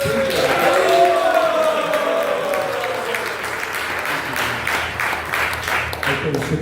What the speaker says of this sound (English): let's give Bhuta Bhavana a nice, warm round of applause